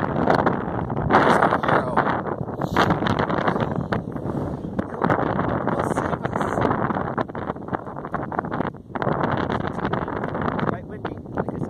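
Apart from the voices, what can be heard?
wind blowing on microphone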